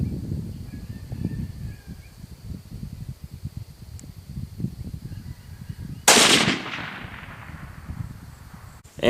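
A single sharp crack of a Remington 700 SPS .308 rifle fired at a 700-yard target, loud and close, its blast decaying over a couple of seconds after a stretch of outdoor wind and rustle.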